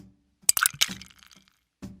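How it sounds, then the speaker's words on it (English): Ice cubes are dropped into a glass of fresh milk in a miniature kitchen, giving a short burst of clinks and cracks, then a faint rattle and one more soft knock. "Now I'll pour fresh milk into a glass. Throw some ice."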